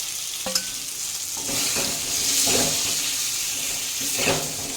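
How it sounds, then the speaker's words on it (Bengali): Thick spice paste sizzling and frying in a pan, with occasional scrapes and stirring clicks against the metal, steady and close, with fried potatoes and pointed gourd added. "এবার এটা কষিয়ে নেব। আমার মশলাটা কষিয়েই গেছে"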